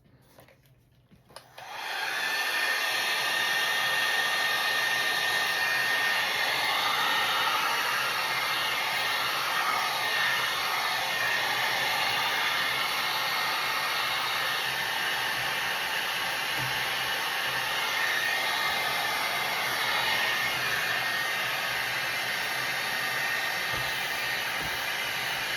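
A hair dryer, aimed at window panes, switches on and blows with a loud, steady whir and hiss that continues without a break.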